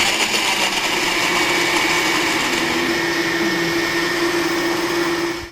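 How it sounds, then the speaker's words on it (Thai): A blender purees sweet potato with palm sugar and coconut milk, running steadily at high speed with a loud, constant whir, then cuts off at the very end. "นำทุกอย่างไปปั่นให้เนื้อเนียนเข้ากันดี"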